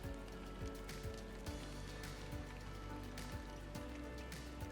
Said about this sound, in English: Rainy means it's raining.